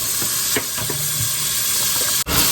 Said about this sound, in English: the first thing we're going to do is add our butter and olive oil